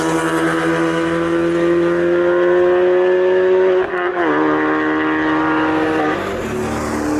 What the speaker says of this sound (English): The exhaust was too loud.